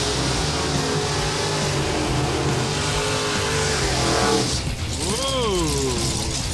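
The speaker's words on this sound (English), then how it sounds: "here we go, a little combo burnout" Two drag racing cars doing a combo burnout at a military-week drag racing game show, a loud continuous roar of engines with squealing tyres and a rising, swooping rev near the end, with talk over it.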